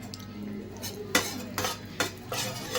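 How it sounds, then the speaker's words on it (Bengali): Whole cardamom pods and cloves dropped into hot oil for a pomfret fish curry, giving a few sharp clinks and brief sizzling bursts against a metal pan, close and moderately loud. "আমার তেলটা গরম হয়ে গেছে এবার আমি এতে এলাচ আর লবঙ্গ দিয়ে দিয়েছি"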